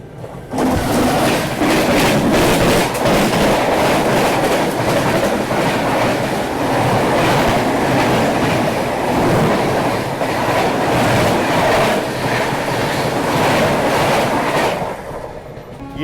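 The Tirupati–Jammu Tawi Humsafar Express rolls slowly, heard from on board with a steady rumble and regular clickety-clack of wheels over rail joints, loud and continuous throughout.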